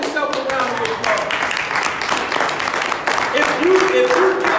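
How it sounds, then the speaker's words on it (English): A live audience breaks into a sustained round of clapping and applause at an inspirational talk, dense and steady throughout, with voices mixed in. "Come on, give yourself a round of applause."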